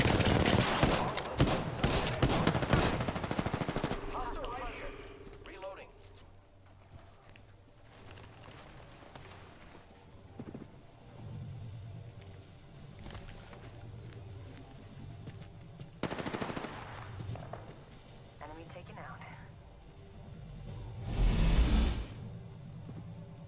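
Gunfire in the video game Apex Legends, with rapid close shots clustered at the start, then quieter distant rattles and scattered bursts over a rumbling battlefield ambience, with a heavier blast near the end.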